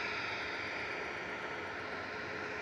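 A Malta Air-operated Ryanair Boeing 737 MAX 8 departs Manchester Airport bound for Rome, a continuous, even jet engine roar with a sustained high whine, heard alone without talk.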